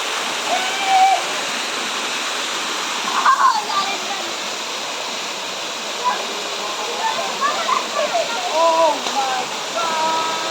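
A waterfall pours in a steady, broad wash of falling water, fairly close and continuous, with faint voices and a few brief splashes or calls rising over it now and then.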